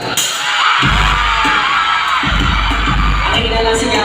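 Crowd screaming at a concert, a loud sustained wall of high-pitched shrieks and cheers with deep booming bass thumps pulsing underneath.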